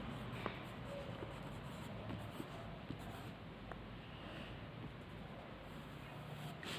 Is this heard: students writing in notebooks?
yes